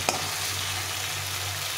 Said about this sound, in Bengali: মশলাটা কষা হয়ে গেছে, তেল ছেড়ে দিয়েছে।